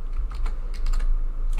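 Typing on a computer keyboard while entering a name for a Power Automate flow: a steady run of close, crisp key clicks in quick irregular bursts, with no talking.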